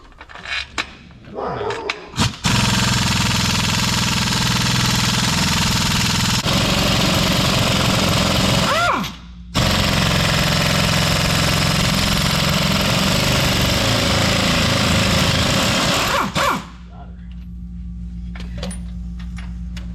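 An impact wrench hammers loudly on the engine mount bolts of a large mining grader in two long sustained bursts, with a short pause between, and clanking of metal tools before and after.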